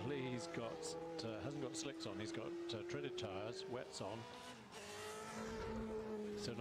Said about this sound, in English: whenever there's a really cool car like this Benetton, what we're going to do is we're going to unmute and we're going to let it ride so that we can hear it